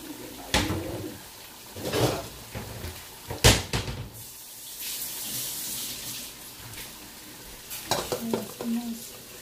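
Food simmers under a tight lid in a cooking pot, a steady wet bubbling hiss with soft pops and a few louder clatters of the lid or utensils, close and continuous without talk.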